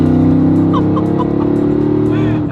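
A 500-horsepower Rezvani Tank armored luxury SUV pulls out onto a road, its engine a loud, close, throaty drone that holds steady and fades slightly at the end.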